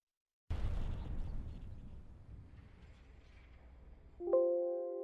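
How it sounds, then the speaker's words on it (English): A grenade thrown onto the ground in a video game explodes in one loud, deep blast that rumbles and fades, followed by a bright tonal game sound at the end. "If I throw a grenade on the ground and I eat this damage"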